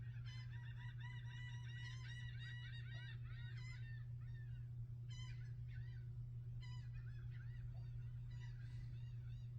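Faint flock of birds, apparently geese, honking in repeated overlapping bursts at a distance over a loud constant low hum.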